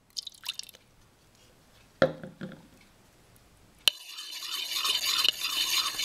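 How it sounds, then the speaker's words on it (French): Butter being mixed with honey and milk for gingerbread cookies, a few soft, close stirring and dabbing sounds, then a steadier wet mixing noise toward the end. "Commencez par mélanger le beurre avec 2 cuillères à café de miel, puis ajoutez le lait."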